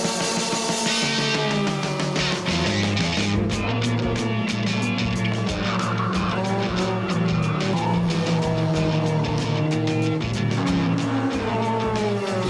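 A race car roars around a circuit, its engine revving hard under acceleration while the tires squeal and skid; the sound is loud and continuous, with shifting engine pitch throughout.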